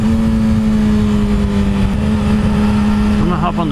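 A motorcycle rides onto the freeway with a loud, steady engine drone and heavy wind rush. The pitch sags slightly near the end.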